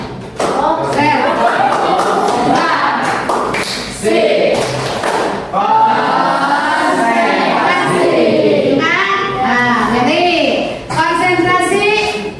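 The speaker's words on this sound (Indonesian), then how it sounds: "Tepuk konsentrasi. Konsentrasi dimulai." A classroom group chants the Indonesian concentration clapping game in rhythm, clapping in sharp bursts between the lines, loud and close.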